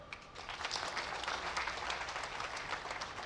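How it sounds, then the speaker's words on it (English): Audience at a memorial service applauds a deputy governor's message with a steady spread of hand claps that rises quickly and holds at moderate loudness, with no speech on top. "I request that we give him a hand clap"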